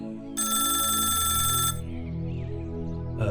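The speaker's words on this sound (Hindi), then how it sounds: "टेबल पर फोन बजता है" A telephone on a police station desk rings with a bright electronic trill for about a second and a half, close and loud, over a low background hum.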